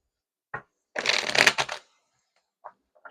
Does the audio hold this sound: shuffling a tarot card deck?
yes